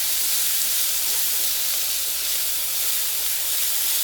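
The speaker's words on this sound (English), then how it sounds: "you want to get that garlic started cooking" Garlic sizzling in a hot pan during the final minutes of braising short ribs, a steady, dense hiss running unbroken and fairly loud throughout with no talking.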